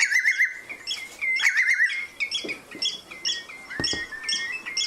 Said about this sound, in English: So the real squeaky cheep, that's the oyster catcher.